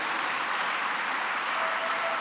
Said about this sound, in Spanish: Podemos darle un fuerte aplauso al Señor